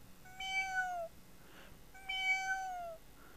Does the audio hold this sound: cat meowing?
yes